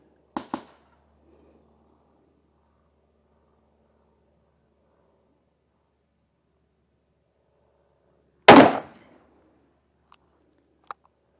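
Two sharp, loud revolver gunshots from a Smith and Wesson 629 Competitor, heard near and alone, one early and one later after a long silence, with faint small clicks between.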